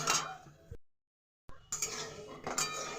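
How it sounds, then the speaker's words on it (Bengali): Fried lentil dumplings (bori) scooped out of a pan of hot oil, a few metallic scrapes and clinks of the spoon against the pan over sizzling, broken by a brief silent gap. "বন্ধুরা, বড়িটা ভেজে তুলে নিচ্ছি"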